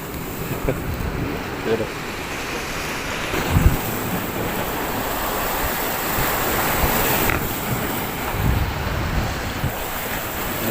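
Strong ocean waves hit a breakwater in bad weather in Abu Dhabi, UAE. The surf rushes and crashes steadily under gusty wind and mic buffeting, with a few short words spoken.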